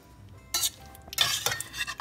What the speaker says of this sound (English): Scrape along the bottom here to get any little bits that might be in it.